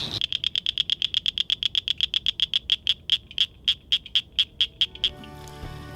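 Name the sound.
northern cricket frog calls, like marbles tapping together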